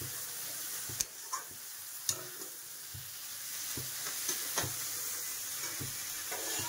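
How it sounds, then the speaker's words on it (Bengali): Shrimp with spices fry and sizzle in a pan while being stirred, a steady soft hiss with irregular clicks and scrapes of a utensil against the pan, close and fairly quiet. "আর এখানে দেখছো মশলা দিয়ে চিংড়িগুলো একদম মিশিয়ে নিল ভালো মতো।"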